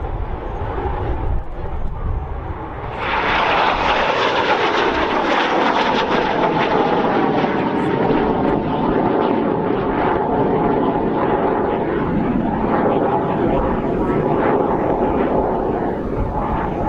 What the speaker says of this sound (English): This one is a Jet Provost Mark V.